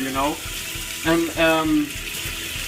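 A running tap with the water still cold, a steady gush and splash under someone talking, his voice rising over the flow at intervals.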